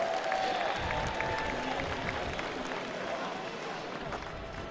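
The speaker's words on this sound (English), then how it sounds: "Huge cheering section on hand for Alec Majerus" Distant crowd cheering and clapping at an X Games skateboard street event in Minneapolis, a broad steady roar heard faintly as if from afar, with scattered whistles and shouts blending in.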